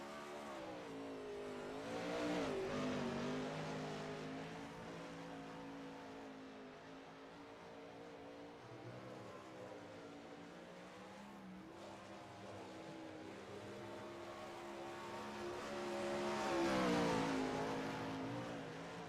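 A race car laps the Eldora dirt track in qualifying, its engine revving and swelling past twice with a loud rising and falling roar, steady in between.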